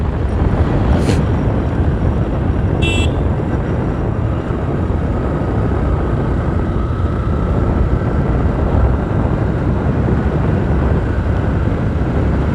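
A Yamaha FZ V3 motorcycle ridden along a road, heard as a steady, loud rumble of engine and wind buffeting for the whole stretch, with a couple of brief high chirps early on and no talking.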